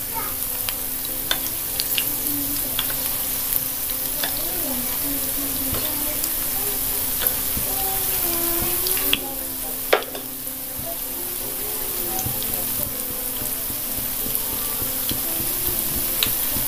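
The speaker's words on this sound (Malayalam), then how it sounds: "ലോ ടു മീഡിയം ഫ്ലെയിമിൽ വെച്ചിട്ട് ഫ്രൈ ചെയ്തെടുക്കുക" Tapioca fritters frying in oil on a low-to-medium flame, a steady close sizzle that holds throughout with a few soft clinks and stirring touches.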